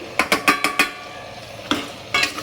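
Radish pieces tipped into a pan of sautéed tomato and onion for sambar, with a run of five sharp metal-on-pan scrapes and clatters in quick rhythm, a pause, then two more stirring knocks, close and clear.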